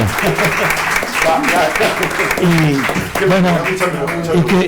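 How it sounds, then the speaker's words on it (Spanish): Audience applause breaks out at a literary tribute evening honoring a writer, a steady wash of clapping sustained throughout while voices talk over it. "lo saludamos con un aplauso"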